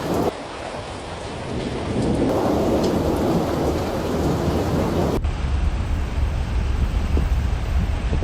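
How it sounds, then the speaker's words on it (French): Heavy rain and a thunderstorm in Fujian, with steady loud rainfall, rumbling thunder building and swelling, and gusting wind buffeting the microphone. "Scène étonnante capturée sous la pluie au Fujian le 15 juin."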